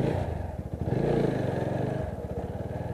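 A motorcycle rides slowly along the edge of a flooded road, its engine putting out a steady, close, rhythmic chug with a little clatter and no talk.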